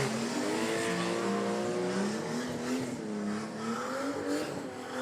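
A Ford Falcon drag car with skinny front tyres and radial rear tyres launching at the track, its engine revving hard with rising and falling pitch as it pulls away, loud and sustained, no talk.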